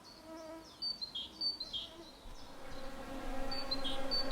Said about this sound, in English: there are so many mosquitoes here